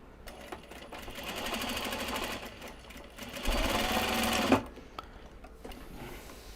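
A sewing machine stitches fabric for gyoza bags made from Japanese cloth, running in a steady motor whir that speeds up and grows louder near the end before stopping abruptly, then a few faint clicks follow.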